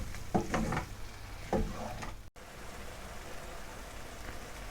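Chopped tomatoes hit hot oil with fried ginger and garlic in a karahi for a prawn curry, giving a steady crackling sizzle with a couple of stirring scrapes early on.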